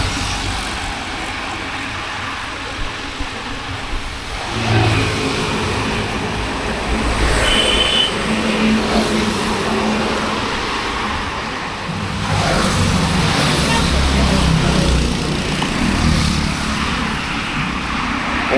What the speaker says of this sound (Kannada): ಓಹೋ ಸೂಪರ್ ಬೈಕ್ಗಳ ಅಬ್ಬರ ಇವತ್ತು ನೋಡ್ರಲ್ಲ